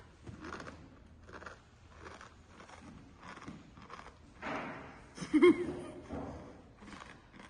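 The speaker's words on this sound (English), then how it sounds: "and the cornflakes, you heard the crunch" Cornflakes crunched while eating, heard as a run of soft, close chewing bites with a louder crunchy burst partway through, against quiet outdoor background.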